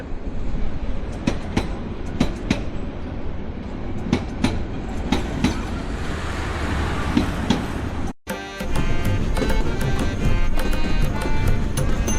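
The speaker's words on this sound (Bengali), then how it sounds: "রাইট নাও আটটা চল্লিশ মিনিটে আমাদের ট্রেনটা স্টেশনে প্রবেশ করছে" A train pulls into a Bangladeshi station, loud close rumble with rhythmic clickety-clack of wheels over rail joints, steady throughout with a brief dropout before the roar resumes; no speech.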